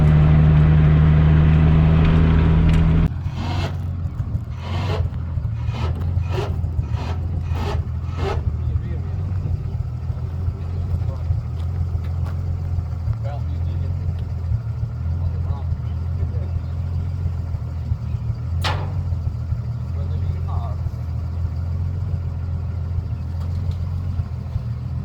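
Drift car with a JZ engine held at high revs, a loud sustained engine note lasting about three seconds before cutting off abruptly to a low idling rumble, with scattered clicks afterward.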